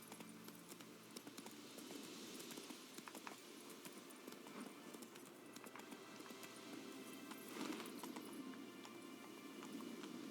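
Horse hooves clip-clopping in The Witcher 3, a quick continuous trotting patter of hoofbeats with small clinks of tack over a soft outdoor ambience, moderately near and steady throughout.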